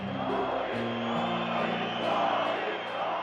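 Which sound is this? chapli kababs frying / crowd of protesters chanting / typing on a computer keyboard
crowd of protesters chanting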